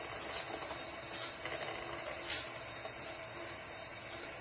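A makeup sponge squeezed under a running tap while washed with Limelight by Alcone Come Clean brush and sponge shampoo, a faint steady trickle of water with soft squelchy pulses as it is wrung out.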